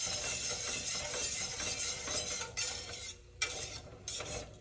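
Onions stirred in a pan for a pork tenderloin and crispy potatoes meal, with steady scraping and soft sizzling throughout, a couple of brief knocks near the end, close and moderately loud with no talk.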